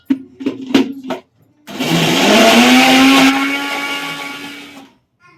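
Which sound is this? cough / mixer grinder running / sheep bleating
mixer grinder running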